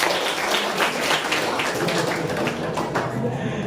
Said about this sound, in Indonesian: tepuk tangan untuk sesi pasangan calon